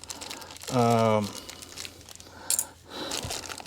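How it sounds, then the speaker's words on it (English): A small plastic bag holding bolts, washers, spacers and an Allen key for 2020 Subaru STI engine dress-up parts crinkles briefly in short, close bursts near the end, after a short voiced hum. "In my little plastic bag here, I got two"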